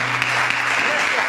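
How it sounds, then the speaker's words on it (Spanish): Congregation applauding in a church service honoring Christ, a steady dense wash of clapping throughout with a low hum underneath, brief and fairly loud. "Dale un aplauso al Cristo"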